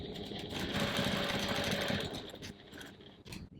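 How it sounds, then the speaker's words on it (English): Sewing machine stitching the bottom and top lines of a crossbody bag at a 2.4 stitch length, a fast continuous mechanical whir and rattle running for a few seconds before slowing and stopping near the end. "Now we're going to go over to the sewing machine and stitch the bottom and the top lines."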